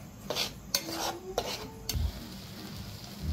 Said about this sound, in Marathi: मसाल्याला तेल सुटेपर्यंत मसाला चांगला छान असा परतून घ्यायचा।